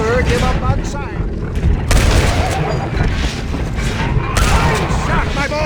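Gunfire rings out in Red Dead Redemption, several sharp shots and booming reports over a busy, rumbling game scene.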